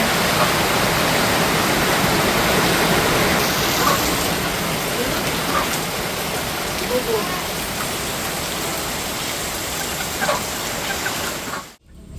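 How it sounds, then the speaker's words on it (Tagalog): Heavy rain pours steadily in a dense, roaring hiss, loud and unbroken, with faint scattered sounds underneath before it cuts off abruptly at the end. "bigla pong gumuhos ang napakalakas na ulan"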